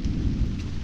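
Steady, fairly quiet rain falls with a low rumbling thunder underneath it, during a drive on a slippery road.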